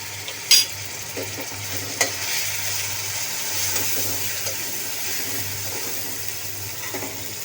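Garlic paste and turmeric are stirred in a frying pan, giving a steady sizzle with occasional scraping taps of the spoon and a low hum underneath.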